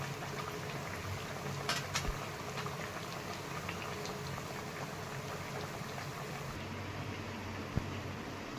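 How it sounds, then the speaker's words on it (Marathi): Sabudana vadas deep-frying in hot oil, a continuous dense bubbling sizzle at moderate level with a few brief clinks near the start, steady throughout with no talk. "या पद्धतीने आता सगळे वडे हे तळून घेणार आहे"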